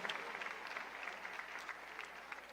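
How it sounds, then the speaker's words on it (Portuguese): A church congregation at PIB de Trindade claps together in a faint, distant, steady burst that runs under a murmur of voices. "Pode aplaudir porque merece."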